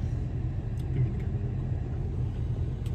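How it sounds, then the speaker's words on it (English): Cars wait in a drive-thru line, their engines giving a low, steady idling rumble close by with no talking. "Them cars."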